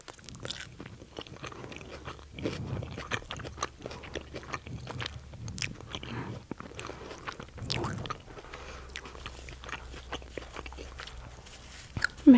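A hamburger with raw, ungrilled onion being bitten and chewed close to the mic, with repeated soft crunches and wet mouth sounds in a steady chewing rhythm.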